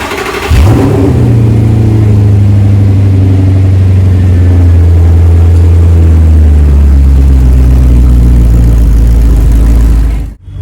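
An Audi R8 V10 sports car engine fires up and revs loudly, then settles into a steady, close, heavy drone that holds for several seconds before cutting off abruptly at the end.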